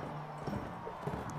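Hooves clip-clopping at a steady gallop from a horse in the medieval combat game Mount & Blade, a continuous rhythmic pattern at moderate level with faint talk underneath.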